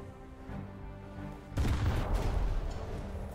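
Naval gunfire in War Thunder strikes a British destroyer, HMS Abdiel: low engine rumble gives way to a heavy blast that leaves a dense crackling roar and rumble behind it.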